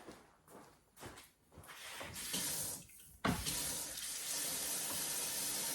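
A sink tap runs during plumbing work, with water gushing loudly and close by, starting and stopping briefly at first before settling into a steady, continuous splashing stream.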